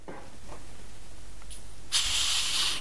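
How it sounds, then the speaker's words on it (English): A champagne cork eases gently out of the bottle, releasing a soft, quiet hiss that swells into a brighter burst of escaping gas near the end, with faint background noise and no talking. "you can see the cork just coming out there, and it should come out and make a noise no louder"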